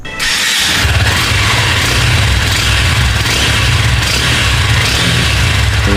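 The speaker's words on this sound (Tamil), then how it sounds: "இப்போ வாங்க எக்ஸாஸ்ட் நோட் கேட்போம்." Honda NX200 adventure motorcycle's single-cylinder exhaust rumbling steadily after a quick start, loud and close with a deep, even low-end throb throughout, no talking.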